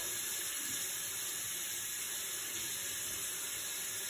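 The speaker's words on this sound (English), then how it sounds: "Let's wash our hands. Nice warm water" Warm tap water runs steadily into a sink as hands are washed, a loud, continuous close hiss and splash with no break and no talking.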